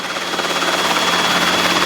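A Robinson helicopter on a training flight makes a slow left pedal turn. Its rotor and engine give a loud, steady, close-up drone with a faint beating pulse, with no voices.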